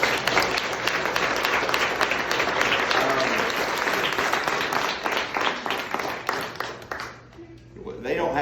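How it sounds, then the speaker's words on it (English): A dense round of applause from a banquet audience at the 2022 MHS baseball banquet, loud and sustained, then thinning out as a voice resumes speaking near the end. "Y'all give them a round of applause."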